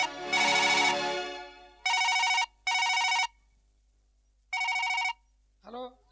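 A telephone rings during a Kannada folk-drama comedy scene: four loud, close, trilling bursts separated by short silences, followed by a brief faint sound at the end.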